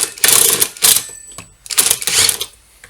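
Parts are being screwed back onto a Stihl MS 180 chainsaw during repair, giving loud, close bursts of rapid rattling clicks with short gaps between them.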